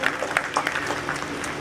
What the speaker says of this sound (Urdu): تالیاں تو ہونی چاہیے ڈاکٹر صاحبہ کے لیے